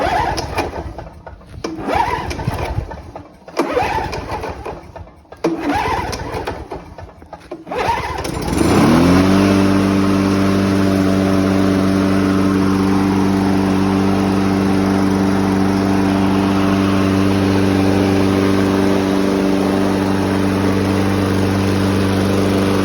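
A Sachs-Dolmar push lawn mower starts with a few rough pulls and sputters, then catches and settles into a loud, steady engine drone that runs continuously.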